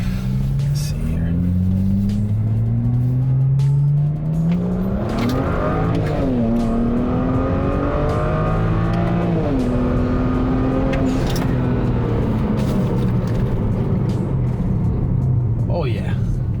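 A tuned BMW 335i revs and accelerates through several rising gear pulls, the engine note climbing, dropping at each shift and climbing again, loud and close from inside the car, with talking over it.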